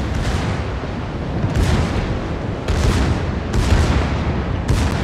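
Tirpitz secondary guns in World of Warships fire in repeated heavy booms, about five bursts over steady battle rumble, loud and close.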